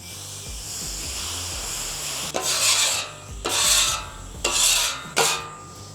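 A metal scraper dragged across a hot Blackstone griddle surface during cleaning, four loud, close, rasping strokes after a stretch of quieter background hiss, no talking.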